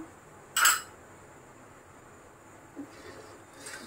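A spoon clinks against a pot while stirring a green coconut pudding mixture over a lit gas stove. There is one sharp, close clink, and later a couple of faint taps against quiet background hiss.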